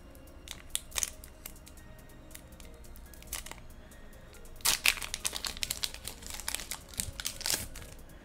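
Pokemon trading card pack being torn open and handled up close, with bursts of crinkling foil wrapper and rustling cards between quieter moments.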